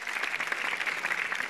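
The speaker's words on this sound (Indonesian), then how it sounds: "inilah Bapak dosen Fahri dari Bandung, kita beri tepuk tangannya meriah." An audience applauds a stand-up comedian at an open-mic television show, a dense, steady burst of clapping from a crowd lasting about a second and a half.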